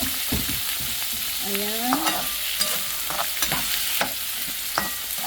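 Tomato sizzling and frying loudly in a hot pan while it is stirred, steady crackle broken by scraping strokes, with a brief spoken word.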